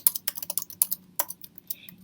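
Typing on a computer keyboard while entering text into a Google Docs document, a quick irregular run of close, crisp key clicks with brief pauses between bursts, no voices.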